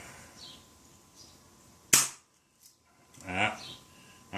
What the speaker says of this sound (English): I forgot to push the BB in on that one.